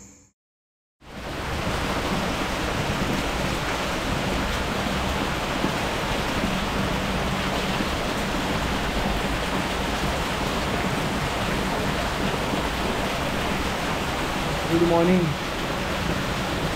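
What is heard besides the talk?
heavy thundering rain falling through the night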